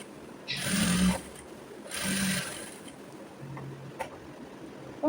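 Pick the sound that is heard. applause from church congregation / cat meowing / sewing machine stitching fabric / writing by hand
sewing machine stitching fabric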